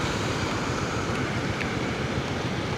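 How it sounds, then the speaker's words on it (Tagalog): Strong floodwater current rushes beneath a high bridge during a typhoon, a loud, steady roar of churning water with wind buffeting the microphone throughout. "Pero ang lakas ng agos."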